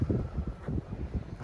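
Strong wind buffeting the microphone on an exposed Baltic Sea shore near pine woods at sunset, with low rumbling gusts swelling and fading continuously over the short stretch, no voices present.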